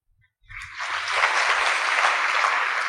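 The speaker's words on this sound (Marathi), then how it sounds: "आत्ता टाळ्या नका वाजवू," Audience applause at a talk, starting abruptly after a brief quiet moment and continuing as a loud, dense wash of clapping to the end.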